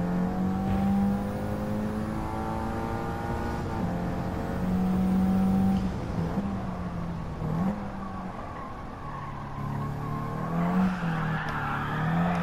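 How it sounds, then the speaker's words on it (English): A Toyota GR86 from 2021 with a swapped engine drifting in Gran Turismo 7, the engine holding a steady loud rev with repeated pitch rises and dips as the car slides, with tire noise underneath. "See some drifting."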